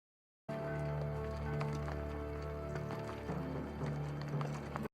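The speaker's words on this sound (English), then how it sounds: "That's one big horse" Horse hooves clip-clop steadily over a loud, continuous bed of music and background noise, the hoofbeats partly buried in the mix.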